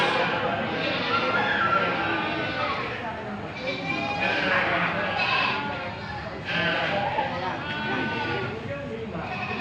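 Goats bleat repeatedly among a crowd at a livestock market, the calls rising over busy chatter and people talking nearby throughout.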